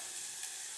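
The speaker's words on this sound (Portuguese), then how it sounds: "Tô fritando, né, o alho e a cebola" Garlic and onion fry in olive oil in a pan, a steady, even sizzle up close that holds without a break, with no voices.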